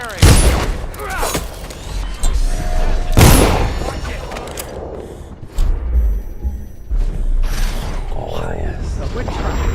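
Guards in Dishonored open fire, sharp loud gunshot bursts and mechanical clatter scattered through the stretch, with shouting voices in between.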